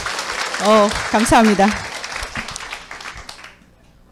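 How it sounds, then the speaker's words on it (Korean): Audience applause at a sales training event, steady clapping running under a speaker's voice and then tapering off into quiet. "다시 한번 박수 부탁드리겠습니다"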